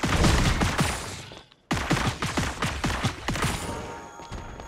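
Star-Lord's walking barrage special ability fires in Marvel Super War, a rapid fusillade of loud, punchy blaster shots that cuts out briefly for a moment and then resumes in a dense volley.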